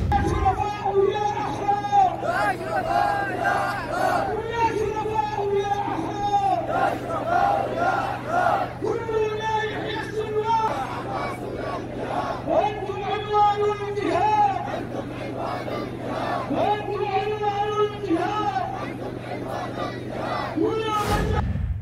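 A huge crowd marching through the streets of Yemen in support of Yahya Sinwar, chanting loud rhythmic slogans in repeated phrases over a constant din of many voices, sustained throughout.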